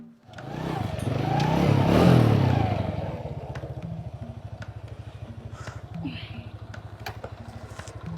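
A motorcycle engine runs nearby, revving up loudly at first, then settling into a steady, rhythmic idle putter, with occasional clatter and people talking over it.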